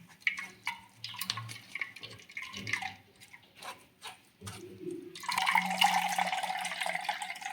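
Water trickles and drips into a peanut mixture for homemade peanut ice cream, then pours in a steadier, louder stream for the last couple of seconds, close by with no voices.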